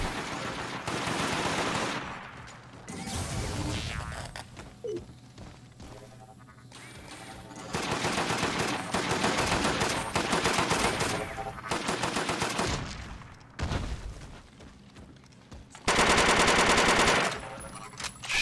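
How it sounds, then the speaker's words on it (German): Automatic turret firing in the video game Deathgarden, heard as loud bursts of rapid gunfire in several separated volleys with crashing impacts, mixed with game effects and no talk. "Mein Turm bei A schießt wieder."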